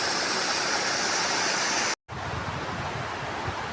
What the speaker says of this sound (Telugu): ఇదిగో వాటర్ ఫ్లో అవుతుంది